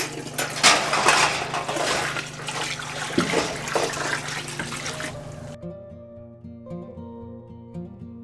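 Reserved hot water poured back into a hot water bath canner, a broad splashing gush that runs about five seconds before cutting off abruptly, followed by quieter tonal hums and faint clinks.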